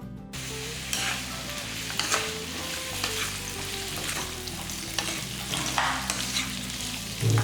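Pumpkin pieces sauté in a pan for buttermilk curry (mor kuzhambu), giving a soft continuous sizzle with occasional stirring scrapes under quiet background music.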